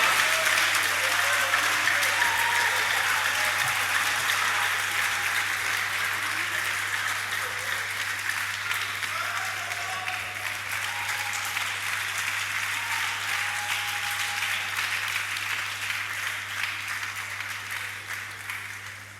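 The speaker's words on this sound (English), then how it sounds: "Please, a round of applause for them." An audience at a student union inauguration ceremony applauds steadily, with dense continuous clapping that slowly fades over about twenty seconds under a low background hum.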